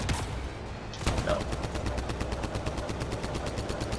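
Turret gunfire in Mass Effect: Andromeda, a rapid, evenly spaced stream of loud shots that starts after a brief burst and keeps pounding steadily to the end.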